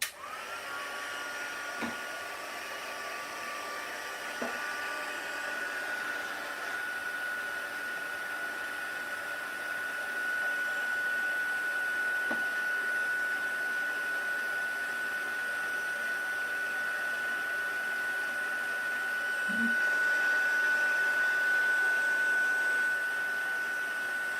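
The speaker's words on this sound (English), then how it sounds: "So now I'm going to use my heat tool, and I'll just turn this on." A heat tool used for card making blows hot air in a continuous, fairly loud whirring hiss, steady for the whole stretch with a thin high whine and a few faint clicks.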